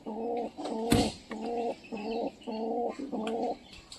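Pigeons squabble and peck at each other close by, giving a run of six rhythmic, throaty bursts of cooing and scuffling with a sharp flurry near the start, no one speaking.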